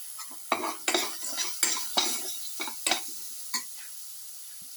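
Spoon stirring chili powder into a tomato, shallot and coconut casserole in a pan, giving a series of close scraping, clinking strokes against the pan in an irregular rhythm, with no talk.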